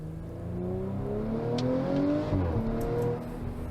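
A V6 car engine holds a steady, sustained note with a slight rise and dip in pitch, loud and continuous with no voices.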